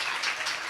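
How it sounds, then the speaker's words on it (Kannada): A church congregation at a testimony service breaks into a short burst of applause, a dense even wash of clapping that stays steady for under a second. "ಚಪ್ಪಾಳೆ ಬರಲಿ."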